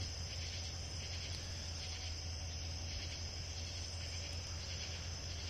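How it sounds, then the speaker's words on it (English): Crickets chirp in a dense, steady chorus in the Pennsylvania woods at night, a continuous shimmering trill that never lets up, with a low rumble of background noise beneath it. "just the trees and the birds and the crickets"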